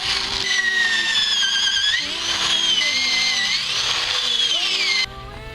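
A power drill whines loudly and continuously, its pitch dipping and rising as it bites into metal, then cutting off near the end.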